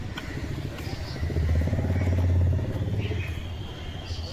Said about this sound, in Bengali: এই বাইকে করে বেরিয়ে যাচ্ছে।